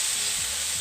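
Chicken fries in a pan with red chili powder, black pepper and vinegar over medium to low heat, a steady, close sizzling hiss with brief stirring scrapes, no voice.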